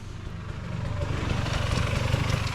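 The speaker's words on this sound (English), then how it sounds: "Motorcycle." Motorcycle engine rumbling low and steady outdoors near a Colorado brewery, growing slightly louder as it passes, with no voices over it.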